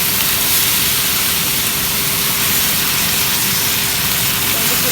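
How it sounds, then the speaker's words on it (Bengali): Rice frying in a hot pan gives a loud, steady sizzling hiss that fills the whole stretch without pause. "এভাবে করে 5 মিনিট আমি ভাজবো, ভালো করে মিক্স করবো।"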